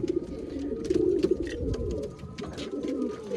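Pigeons coo steadily in an old-breed pigeon loft, a continuous layered murmur of low throaty calls with occasional wing flutters, close and moderately loud.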